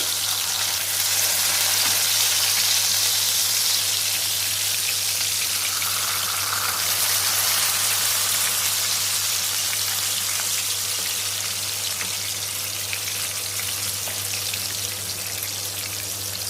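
Masala seer fish (vanjaram) deep frying in oil gives a loud, dense, continuous sizzle and crackle that holds steady throughout, close up and with no talk.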